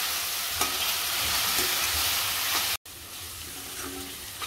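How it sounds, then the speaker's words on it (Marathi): Green masala paste stir-frying in hot oil for a Koli-style mutton curry, a steady close sizzle and frying hiss with soft scraping stirs, briefly cut off near the end before resuming. "आता हिरवं वाटण असं परतलंय आपलं तेलावरती।"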